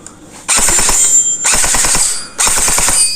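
FJ M4 CQB electric gel blaster firing three loud, close bursts of rapid rattling shots, with short pauses between bursts.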